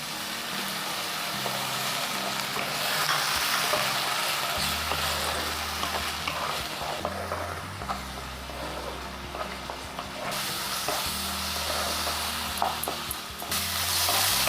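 Tomato paste frying in a pan while cooking bhindi masala, a steady close sizzle with occasional stirring, alone over a low background hum.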